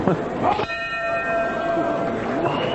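A boxing round bell clangs once at a professional bout between Joan Guzman and Armando Guerrero. It is struck sharply, and its metallic ring sustains for a couple of seconds under the commentators' voices and the arena noise.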